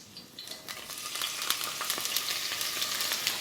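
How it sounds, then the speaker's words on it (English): Chopped onions hit hot oil in a 3-quart cast iron saucepan, giving a close, steady sizzle that builds quickly and then crackles on. "All right, so I'm going to drop the chopped onions in."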